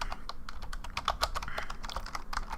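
Computer keyboard typing at close range: a quick, uneven patter of key clicks that continues throughout, with a faint hum behind and no speech.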